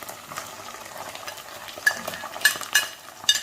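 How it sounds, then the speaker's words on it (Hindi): Ginger garlic paste frying in a pan, with a soft continuous sizzle broken by several sharper clinks and scrapes of a spoon stirring against the pan. "जिंजर गार्लिक को थोड़ी देर भून लेना है।"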